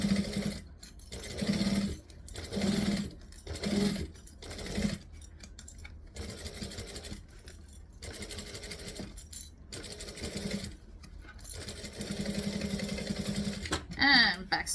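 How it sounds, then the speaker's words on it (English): A sewing machine stitches a backpack in rapid bursts that start and stop, with short pauses between runs, loud and close. "I'm just keeping an eye to make sure it doesn't stop stitching because it's out of bobbin thread"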